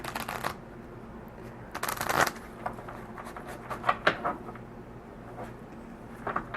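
A deck of cards is riffle-shuffled several times, crisp fluttering bursts separated by short pauses and quieter handling sounds.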